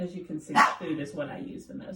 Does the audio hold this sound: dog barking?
yes